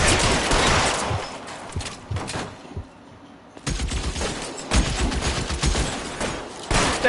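Bursts of gunfire in LA Noire crackle in dense, rapid volleys at close range, broken by a short lull midway before heavier shooting resumes; no voices.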